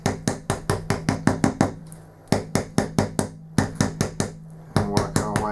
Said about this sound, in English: We get a hammer.